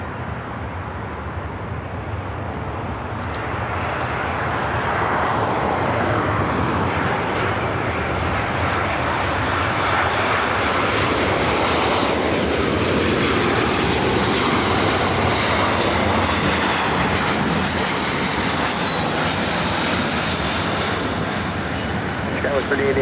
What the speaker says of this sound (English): Next arrival is Southwest Airlines, flight 2667 coming in from SFO, a 737-700.